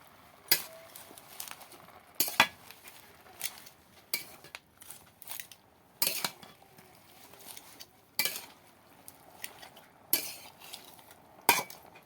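A utensil scrapes and clinks against a pan as fish with turmeric and green chillies is stirred. The strokes come in a regular rhythm of sharp, close knocks with quiet gaps between them, and nobody speaks.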